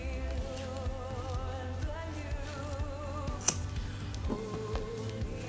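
Scissors snip braids off a braided wig, giving a few sparse, quiet clicks and cuts close by under steady background music.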